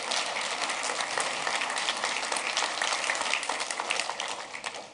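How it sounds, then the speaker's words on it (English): Audience applauding mothers, a dense sustained round of clapping from a crowd that tapers off slightly toward the end. "give them a round of applause"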